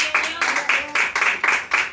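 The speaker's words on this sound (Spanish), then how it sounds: "¿Cuántos le dan un fuerte aplauso al Señor?" A church congregation claps in a steady, even rhythm for the Lord during a service, about eight quick claps of applause close by.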